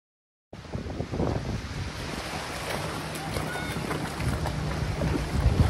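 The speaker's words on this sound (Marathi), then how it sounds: "लाट आली लाट आली" Sea waves surge and break near a boat off the Goa coast, a steady loud wash of water with wind buffeting the microphone throughout, rising slightly toward the end.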